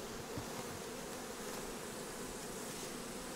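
Carniolan and Buckfast honey bees buzzing around a hive at an apiary, a dense, continuous droning hum from many bees, close and steady throughout.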